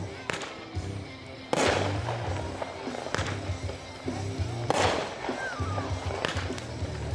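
A 15-shot XV fireworks cake fires outdoors at a demo, launching loud booming bursts at roughly regular intervals with crackling tails between them, while faint voices murmur in the background.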